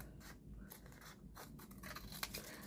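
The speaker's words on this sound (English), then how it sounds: "So get my scissors, and we're going to go ahead and just trim up those edges." Scissors trimming the edges of a paper journal tag: quiet, close snipping and paper-cutting sounds in short bursts, with faint rustling and one sharp click near the end.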